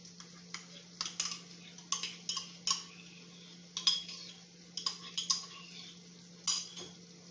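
A spoon stirs yogurt into paneer malai kofta curry in a pan over low heat, making a steady series of close, light metallic taps and clinks against the vessel above a low background hum.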